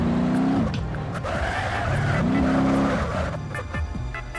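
Game car in BeamNG driving hard with tires squealing in rising, sliding pitch sweeps over a steady engine drone, loud and close throughout.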